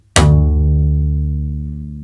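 A double bass string is plucked hard and snaps against the wooden fingerboard in a single sharp Bartok pizzicato, followed by a deep, ringing tone that slowly fades, heard alone and close.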